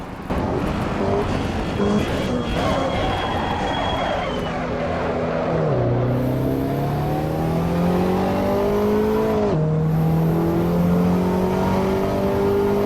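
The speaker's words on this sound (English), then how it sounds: "Here's the interior audio." A Lamborghini Huracan STO race car engine in Assetto Corsa Evo drones steadily from inside the cockpit at Mt. Fuji Speedway, its pitch climbing and dropping with gear shifts, loud and continuous throughout.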